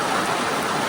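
Rain drums on a tent in a close, loud, unbroken hiss of drops striking the fabric, steady for a second with no voices.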